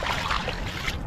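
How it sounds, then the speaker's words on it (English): Tidal water flowing strongly on a beach at low tide, a brief close rush of sloshing, gurgling water heard alone. "The water is quite strong here."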